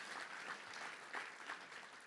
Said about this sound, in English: Yeah, they're worth a round of applause.